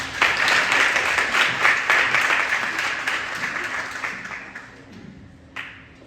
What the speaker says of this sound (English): Please a round of applause for Beata.